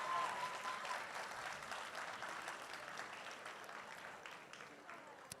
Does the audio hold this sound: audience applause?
yes